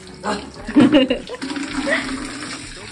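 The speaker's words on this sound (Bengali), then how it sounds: "আমার বর্মশাই দেখো এখন স্নান করছে" Man bathing at home with running, splashing water, moderately close, while someone talks over it.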